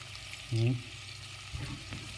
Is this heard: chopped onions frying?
yes